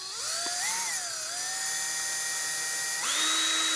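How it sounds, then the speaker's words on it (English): A power drill whines at high pitch while boring a hole, its tone wavering and dipping under load and then rising sharply near the end, close and continuous with no voices. "You got to double check to make sure your drill is always going the right way."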